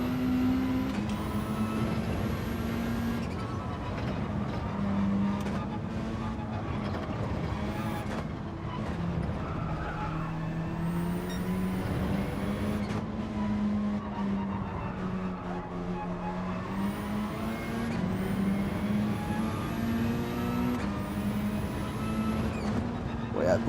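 Race car engines roar in Gran Turismo 7 during an online lobby race with a BMW close behind, a sustained drone with rising and falling gear-shift pitches and occasional tyre squeals, under a speaking voice.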